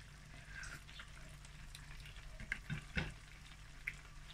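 Butter and mushroom sauce bubbling in a pan, a steady low simmer hiss with a few soft pops and clinks, close and fairly quiet, no voices.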